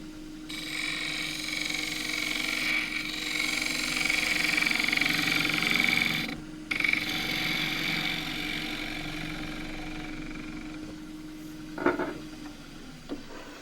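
A wood lathe turns an elm spatula pot while a gouge makes a clean cut, giving a steady whirring, scraping hiss over the motor hum. The cut stops with a short clatter, followed by a few light knocks.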